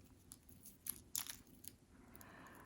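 A crispy homemade pain au chocolat being broken and bitten, giving a few sharp flaky crunches close by, the loudest two bunched together near the middle, faint and brief against a quiet room.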